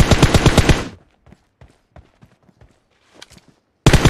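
Rapid automatic gunfire in PUBG, a loud burst of close shots followed by scattered distant pops and footsteps, then another loud burst cutting in at the end.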